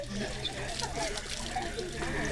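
Water running from a household tap in a Brazilian village that once relied on water trucks, a steady trickle and splash heard under ongoing talk.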